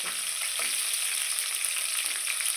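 Chilies and spices frying in hot oil for a South Indian style chili dish, a steady dense sizzle with faint crackles and occasional stirring, close and continuous without speech.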